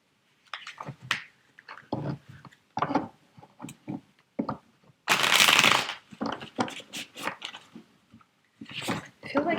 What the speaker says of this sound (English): I'm going to pull 3 more cards.